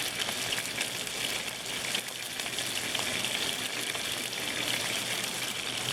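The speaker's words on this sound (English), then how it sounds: "my water's boiling already" Water boiling in a pot on a wood stove top, a soft continuous bubbling and hissing, fairly quiet and steady throughout.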